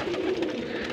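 Pigeons coo softly in a loft housing about 110 birds, a brief low warbling call over faint background rustle.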